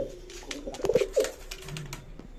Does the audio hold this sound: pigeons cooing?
yes